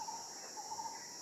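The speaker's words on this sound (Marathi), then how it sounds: "भरपूर पक्ष्यांचा आवाज येतो आहे पण एक पक्ष्यांचा मोठ्या प्रमाणात आवाज येतो आहे" Faint bird calls from a hill village hamlet of herders' houses, thin steady whistling tones over a quiet outdoor background with a soft insect-like hum, no voices.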